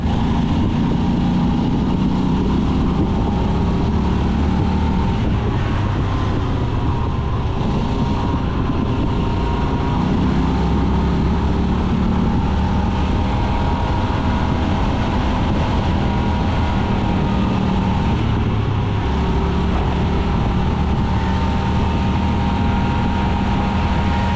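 Golf cart engine held at full throttle while it puffs out smoke, a loud, steady, unbroken motor drone running for about 24 seconds with no talk.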